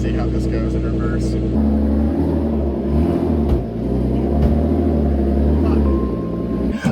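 A BMW E36 reversing up a hill into a garage, with a steady, loud, close low engine drone and drivetrain rumble, engine note shifting slightly as it moves.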